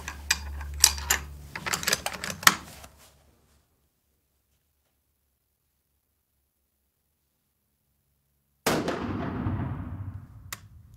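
A deer rifle fires once while being sighted in, a loud close blast that decays quickly after a few seconds of handling clicks and rustles, followed by long silence and then more shuffling noise.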